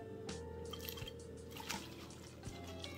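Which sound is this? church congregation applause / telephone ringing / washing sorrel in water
washing sorrel in water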